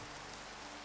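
Rain falls in the Minecraft video game as a steady, dense hiss of drops on a surface, continuous and evenly loud through the whole short stretch, with no talk.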